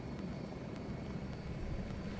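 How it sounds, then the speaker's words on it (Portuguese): A drone flying overhead in the video game The Culling gives a faint, steady droning hum with a low engine rumble and no talking over it. "Vai vir lá do NE, o drone."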